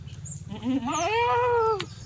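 A single drawn-out Kathiawari goat kid bleat, rising and wavering, loud and close, over a low steady rumble in the background.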